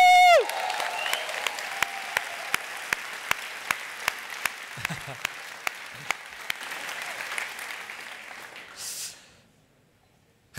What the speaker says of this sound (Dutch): Een groot applaus voor Bram van Ooyek.